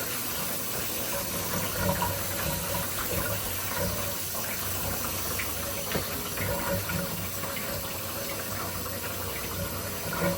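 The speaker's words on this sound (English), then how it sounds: "Turn this water off." Tap water runs steadily and close by while a jacket is rinsed during a wash in a portable washing machine, a continuous hiss and splash lasting throughout with no talk.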